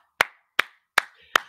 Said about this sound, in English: round of applause for tying it up.